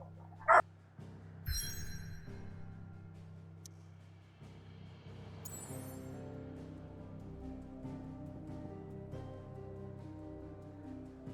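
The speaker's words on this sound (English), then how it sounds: "Puppies are barking." Puppies bark and yip faintly in the background, with a sharp single yelp early on, then a low steady hum and quiet indoor ambience with no talking.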